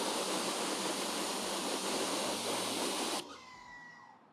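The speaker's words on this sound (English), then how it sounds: "I'm just going to rinse off my brush before I put it back to my bucket" Water splashing steadily as a brush is rinsed off after cleaning a car tire, a loud continuous hiss that cuts off abruptly near the end, leaving a faint drip.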